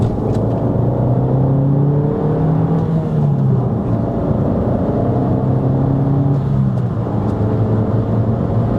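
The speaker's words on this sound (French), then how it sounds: "on entend la dump valve du turbo" An Abarth 500 with a turbocharged engine pulls away in second gear, its engine note steady and loud, rising and falling with harmonic whine and rumble; a distinct turbo dump-valve release is not clearly separable from the drone.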